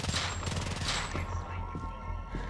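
SMG gunfire in a VR shooter game rattles in rapid continuous bursts, dense and steady throughout, close and loud.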